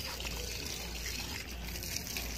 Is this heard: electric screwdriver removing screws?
no